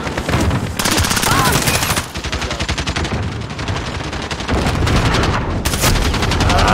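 Dense, rapid automatic gunfire from Modern Warfare on the cramped Shipment map, with overlapping bursts crackling almost nonstop and loud up close, a voice speaking intermittently over the shooting.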